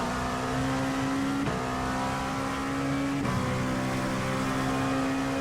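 A GT3 race car engine in the iRacing racing game holds a steady high-revving drone, stepping through two quick upshifts as it pulls along the track.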